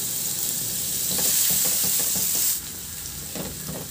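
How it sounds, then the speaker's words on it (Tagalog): Ginger and garlic sautéing in hot oil in a pan, a bright continuous sizzle with clustered stirring clicks and scrapes, the hiss dropping a little partway through, no voices. "binawasan ko lang din yung mantika at igisa ko na rin yung luya. Ilagay ko na rin yung bawang."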